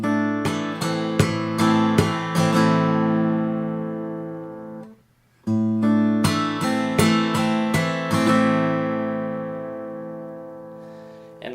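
Acoustic guitar plays one measure of a song slowly, with a run of plucked notes ringing into a sustained chord. After a brief silence the same phrase repeats, close and moderately soft.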